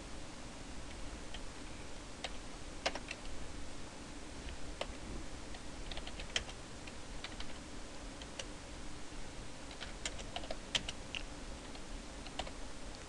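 Computer keyboard typing code, with irregular quiet key clicks scattered over a steady low background hum, fairly faint and without talk.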